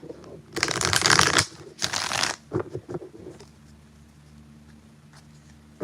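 Two quick bursts of tarot cards being shuffled, crisp riffling close by, followed by a few light taps and handling sounds, then quiet.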